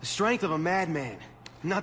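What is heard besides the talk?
No everyday noise stands out behind the speech.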